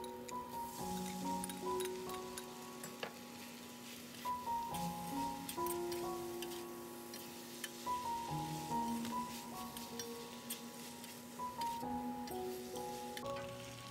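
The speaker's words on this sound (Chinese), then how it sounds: "再加入酸菜和榨菜翻炒。 炒香以后，加入肉丝炒匀。" Shredded pork stir-fried in a wok with sauerkraut, pickled mustard tuber and scallions, giving a steady sizzle and frying crackle throughout, with spatula scrapes and clinks over it and no talking.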